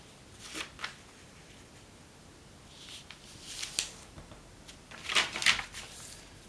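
Sheets of origami paper are folded in half by hand, producing soft crinkles and a few crisp creasing rustles in short bursts, close and fairly quiet, with no talking.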